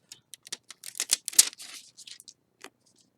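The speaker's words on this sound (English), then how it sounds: "And now I'm going to just peel it off" A tag being peeled off deco foil, heard as a close, crisp run of small crackling and ripping bursts that gets denser in the middle, then thins to a few scattered ticks before falling silent.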